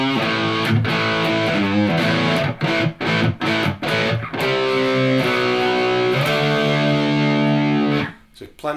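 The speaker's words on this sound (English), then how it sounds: "there's plenty of distortion there" An electric guitar through a Blackstar HT Club 40 amp on Overdrive Voice 1 plays thick, heavily overdriven sustained chords with short choppy breaks between them, loud and close, with no voices.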